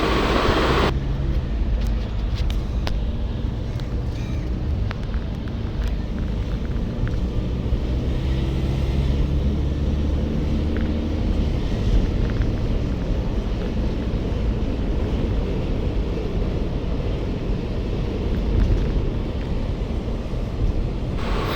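Steady traffic on the Dhaka-Mymensingh highway, with a continuous deep rumble of passing vehicles and wind buffeting the microphone, heard without pause and with no voices.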